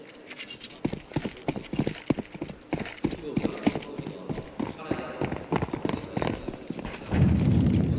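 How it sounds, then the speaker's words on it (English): Rapid, evenly paced footsteps climbing metal scaffolding in the Counter-Strike match between Cloud9 and Complexity at the PWE Shanghai Major, with a caster talking over the steps. "Hearing the footsteps, scaling up the scaffolding."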